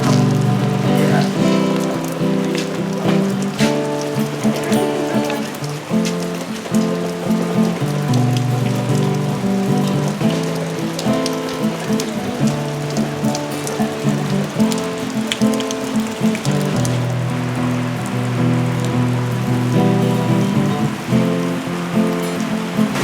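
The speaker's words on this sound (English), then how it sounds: "It's raining actually really hard." Heavy rain pours outside a cafe in Rosendal, a small town in Free State, South Africa, a dense, loud, continuous patter with music playing underneath for the whole stretch.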